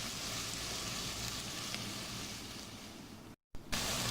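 Onion with ginger garlic paste frying over low heat, a steady close hiss of sizzling oil running throughout, broken by a brief cut near the end.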